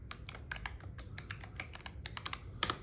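Keys on a ProtoArc MECH K300 mechanical keyboard clack in a quick, uneven run of crisp taps, heard close and fairly quiet, with a tighter burst near the end.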